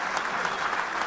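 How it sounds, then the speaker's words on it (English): Applause from an audience at a touchdown club event in Little Rock, a dense even patter of many hands clapping throughout the brief moment. "let's give a big round of applause one more time to Oaklawn"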